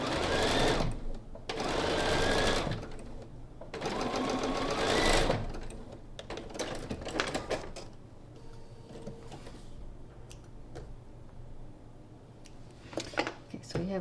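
A sewing machine runs in three quick bursts, stitching quilt fabric at a short 1.6 stitch length, then falls silent to scattered handling clicks and rustles; close and fairly loud, with soft speech in the background.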